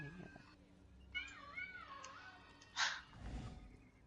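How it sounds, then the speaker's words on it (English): A pet cat meows in a drawn-out, wavering call, followed by a short higher chirp and a low grumbly trill, heard close but soft in a quiet room. "Right now you're gonna hear my cat talking"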